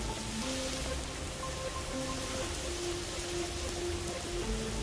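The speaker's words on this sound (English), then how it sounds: "Carissma provides different weather conditions like heavy rain and even dense fog." Heavy simulated rain in an indoor vehicle testing hall, a dense, even hiss filling the space without a break, with faint steady tones underneath and no talking.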